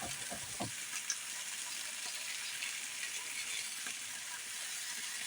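A whole rabbit browns in a hot pan for stew, giving a steady, even sizzle and crackle throughout, with a few faint clinks near the start.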